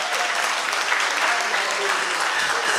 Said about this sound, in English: let's give the debaters all a round of applause